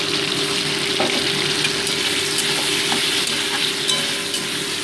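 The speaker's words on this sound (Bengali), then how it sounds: "টমেটোগুলোও কিন্তু আলুর সাথে আমি ভেজে নিচ্ছি।" Potatoes and tomatoes fry in oil on a gas stove with chili-ginger paste, salt and turmeric. The loud, steady sizzle runs throughout, with a few sharp stirring clicks.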